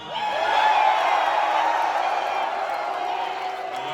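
A large crowd at the UFC 285 press conference in Las Vegas cheers for Jon Jones, a sustained roar of voices that swells early and holds steady without a break.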